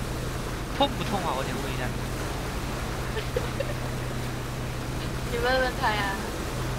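A low, steady boat engine drone from PUBG hums continuously beneath people talking, with faint water wash in the background.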